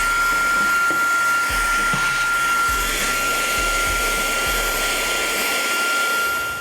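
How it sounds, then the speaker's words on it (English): A Fanttik Slim V8 Apex handheld vacuum cleaner runs close and loud with a steady high-pitched motor whine and airy rush, while a few dull knocks and bumps of the nozzle against a surface sound underneath. "So that's a look at the Fanttik Slim V8 Apex handheld vacuum cleaner."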